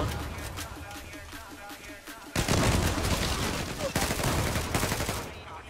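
Rapid bursts of automatic gunfire from the Fateh rifle in the online shooter Zula, starting quieter and then turning loud and dense, continuous crackling volleys with a brief break near the end.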